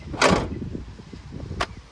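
Driver side door of a 1979 Chevrolet Camaro swinging shut with a solid, close thunk, then a second sharper latch-like click moments later, with quiet rumble between.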